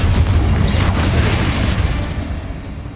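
A Confringo fire spell detonates in Hogwarts Legacy, a loud booming blast at the start that rolls into a sustained rumbling roar before slowly fading.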